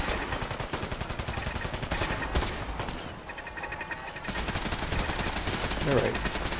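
Sustained automatic weapon fire from a Fallout 4 battle in the Sim Settlements 2 mod, a steady hammering stream of shots that briefly thins, then resumes loud and close, with a voice speaking underneath.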